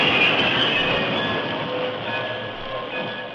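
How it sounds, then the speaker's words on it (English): Train cars roll over the tracks as a radio drama effect, a steady rumbling clatter with faint squealing tones that fades slightly toward the end. "the train of cars rolled over the tracks"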